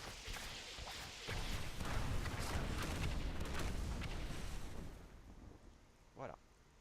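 Repeated skill explosions triggered by a chain reaction rune in an action video game form a dense, continuous rumbling burst that holds for several seconds, then fades, with one short boom near the end.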